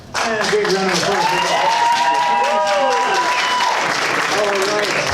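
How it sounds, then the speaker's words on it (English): A live audience at an improv comedy club showcase breaks into a loud, sustained round of applause with scattered cheers, steady for several seconds after a sudden start, with voices calling out over the clapping. "And a big round of applause"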